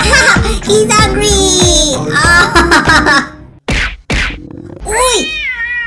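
A cat meows loudly and repeatedly up close. The cries are drawn out and rise and fall, with a couple of sharp thumps in between.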